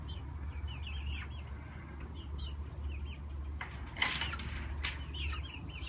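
Hens clucking in an outdoor chicken yard beside a coop and run, soft scattered calls over a steady low rumble, with a couple of brief sharper noises near the middle.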